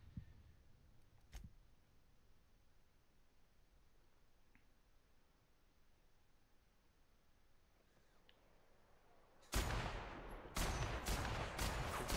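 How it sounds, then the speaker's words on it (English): Weapon fire at an enemy in the video game The Outer Worlds, a run of sharp, loud shots near the end after long quiet stretches, with one isolated crack earlier. "I'm literally shooting at his bare head."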